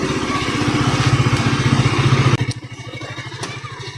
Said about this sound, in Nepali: बाहिर निकाल्नु बाइकलाई